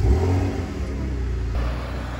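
A brand new car's engine sounds up close and loud, with a strong low rumble that rises at the start and then settles into a steady, humming idle.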